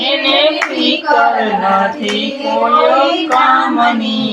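Rhythmic hand clapping keeps time with a devotional bhajan sung at a kirtan gathering, steady and close, with singing voices carrying over the claps throughout.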